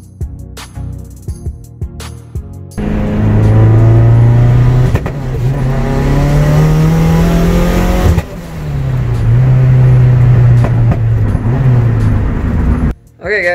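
A car engine revs hard on a test drive after a spark plug change and wire cleanup, a loud sustained drone that climbs and falls in pitch through two long acceleration runs, with a short pause between them.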